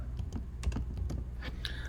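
Keys clatter on a computer keyboard in a short burst of typing, close and fairly quiet, with uneven clicks over a low hum.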